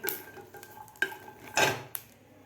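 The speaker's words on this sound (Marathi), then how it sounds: "न तेल टाकताच आपल्याला मिरच्या लसूणसुद्धा भाजायचं आहे" Green chillies and garlic dry-roast in a pan without oil, heard as a few scattered scrapes and metallic clinks of stirring, with one louder rasp, quiet and close with no steady sizzle.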